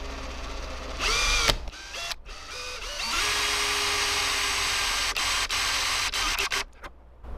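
A power drill whines in short bursts, then runs in a long steady spin before stopping, drilling holes in a homemade catfish swimbait, close up with no talking.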